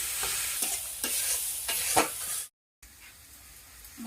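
Spice paste with turmeric and chili being stirred and fried in a pan, sizzling steadily with repeated scraping strokes of the spoon, then a brief silence and quieter frying.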